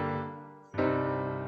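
Two sustained chords, a minor five chord ringing and fading, then a brief break and a fuller tonic chord entering and holding, clean tones with no talk.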